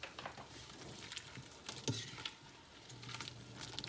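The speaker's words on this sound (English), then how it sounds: "Give it a good stir" A spoon stirs turkey dumpling soup in a pot with soft, quiet scraping and patter, close and faint, with no talking.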